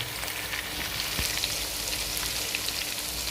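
Spices fry with browned onions for a Pakistani beef pulao, giving a steady, dense sizzle close by with occasional light stirring. No voices are heard.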